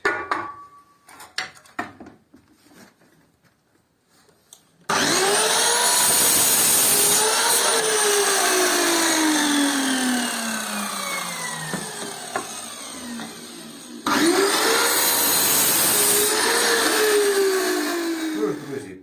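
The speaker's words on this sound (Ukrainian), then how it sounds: "Після того, коли ми верхній брусочок постругали в потрібні нам розміри" An electric power planer shaves a wooden bar for a Dadant beehive frame. After a few quiet knocks it starts with a loud, sustained whine for about nine seconds, stops briefly, then roars again.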